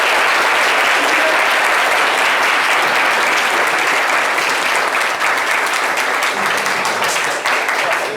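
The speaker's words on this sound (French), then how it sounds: "On l'applaudit jusqu'à ce qu'il arrive." Loud, continuous audience applause on a live Ivorian TV morning show in Abidjan as a guest walks up, a dense unbroken wash of clapping from a large crowd, with faint voices beneath.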